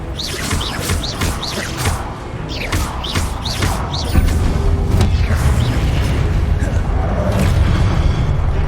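Fiery Confringo spell blasts in a Hogwarts Legacy duel, loud booming bursts and crackling impacts over continuous battle noise, with other spell effects and combat sounds layered throughout.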